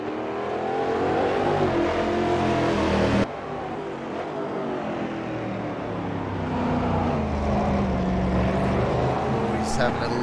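Race cars roar steadily along a track during a race, engines droning and shifting in pitch as they pass at a distance, with a commentator talking over the continuous noise.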